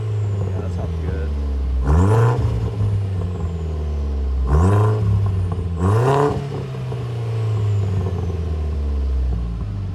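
A 2000s-era Audi A4 1.8T with a new aftermarket exhaust revs from a warm start, giving three sharp throttle blips with turbo whistle over a steady idle rumble, close by, with people talking nearby.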